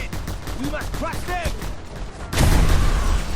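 Gunfire in the Just Cause 2 video game, a dense burst of rapid shots that swells into a loud sustained barrage near the end, with voices and sweeping tones mixed in underneath.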